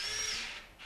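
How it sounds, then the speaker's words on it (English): A power drill bores a hole into the hull of a boat parked near a showroom, its loud steady high-pitched whine running continuously at close range, dipping briefly near the end before resuming, with no talking. "Mr. Floyd, is he drilling a hole in that boat?"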